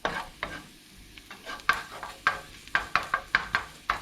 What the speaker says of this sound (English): Kind of roast the garlic a little bit.